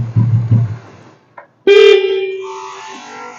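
A Royal Enfield Bullet motorcycle horn gives one loud, close, steady toot lasting over a second, after a brief engine rumble and a short click.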